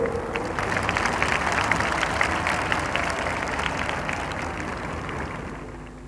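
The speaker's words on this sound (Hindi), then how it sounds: "गर्व करें और ताली बजाइए उन बेटियों के लिए" A large crowd at an outdoor Independence Day address at Delhi's Red Fort applauds steadily, a dense roar of many hands clapping that holds for several seconds and slowly eases off.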